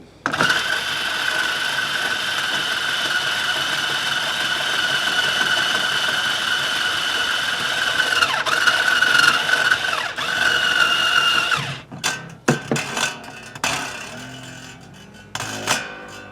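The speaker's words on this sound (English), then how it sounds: "using my Ernie Ball Power Peg Pro, I tighten this up" An Ernie Ball Power Peg Pro motorized string winder tightens a string on a Jackson X Series WRX24M electric guitar, a steady close whine for about eleven seconds that then cuts off into scattered clicks and handling noise.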